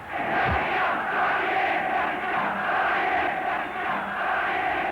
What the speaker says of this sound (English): when the crowd start chanting your name